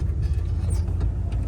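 Old 4x4 truck engine working in four-low range while descending a grade, a steady, dense low rumble holding close and even with no talk over it.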